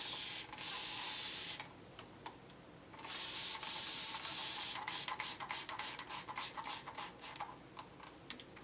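A spray bottle mists water onto hair in mini twists, first in two long hissing bursts, then a quick series of short rhythmic sprays, close and fairly quiet with no talking.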